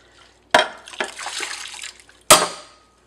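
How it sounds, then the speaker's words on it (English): A pot of rice and water is emptied out, with two abrupt, close splashes separated by a stretch of sloshing, trickling water. "Now let's empty this pot."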